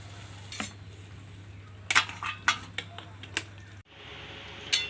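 Spice paste for ghugni being stirred in a pan after water is added, with scattered clinks and scrapes of a spoon against the pan over a low steady hum, faint and close.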